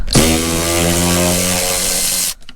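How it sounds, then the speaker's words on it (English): A ratchet runs in one steady, loud motorized whir for about two seconds and then cuts off, turning a fuel injector bolt on a Porsche Cayenne S 4.8L 957 with rough acceleration. "Let's see if the ratchet will..."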